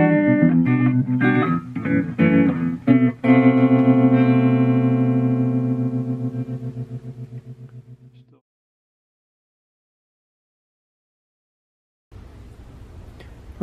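Vintage Standel Studio XV guitar amplifier with its vibrato effect on. A few strummed chords ring out and decay slowly with a pulsing wobble, then silence, then a low hum at the end.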